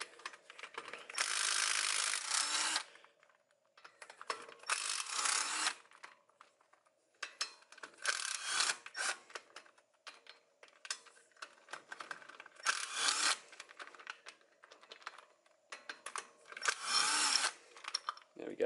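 A ratchet or power tool loosens 8mm hex bolts on the front wheel hub of an Isuzu MU-X/D-MAX, with about six loud, close buzzing bursts separated by brief pauses.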